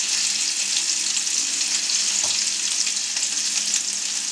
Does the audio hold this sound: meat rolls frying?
yes